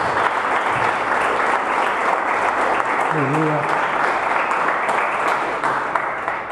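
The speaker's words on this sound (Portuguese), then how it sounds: "Você pode dar uma salva de palmas para Jesus?" Sustained applause from a church congregation, a dense, steady wash of clapping that fills the space throughout, with a few indistinct voices and a brief vocal exclamation rising over it.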